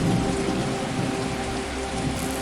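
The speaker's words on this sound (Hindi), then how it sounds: "बाहर मूसलाधार बारिश शुरू हो चुकी थी" Heavy rain pours down outdoors in a steady, dense hiss of drops striking surfaces, loud and continuous with a faint low rumble beneath.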